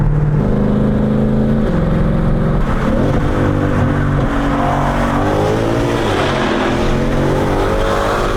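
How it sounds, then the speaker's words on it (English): A stock Ford Mustang Shelby GT500's exhaust revs loud and close, rising and falling through deep engine pulls with a rough, throaty tone that surges several times and never lets up. "The exhaust sounds really good."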